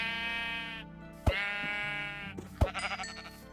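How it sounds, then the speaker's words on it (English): Minecraft sheep bleating several times in a row, close and clear, with sharp hit thuds between the bleats and no talking. "let's start killing some sheeps"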